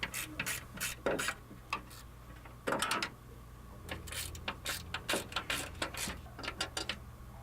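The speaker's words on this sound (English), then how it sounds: "Remove those fasteners. These fasteners are 8mm." A ratchet clicks in quick close bursts while 8mm fender fasteners come off a Ford F150, the sharp pawl ticks separated by short pauses as the tool works each fastener.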